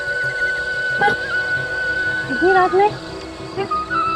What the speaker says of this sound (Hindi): ये तो बांसुरी की आवाज है।